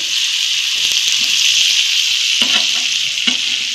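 Tuna fish pieces fry crisply in a pan with a loud, dense, continuous hissing sizzle, close up, with a few soft taps and scrapes as pieces are turned over, and no voices.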